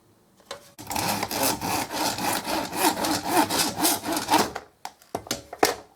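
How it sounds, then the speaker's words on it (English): A hand saw cutting through a piece of wood, rapid rhythmic back-and-forth rasping strokes, loud and close, ending in a few separate scrapes and knocks. "again taking your saw, cut that off."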